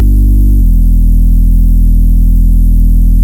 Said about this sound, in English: The erosion basically just acted like a white noise.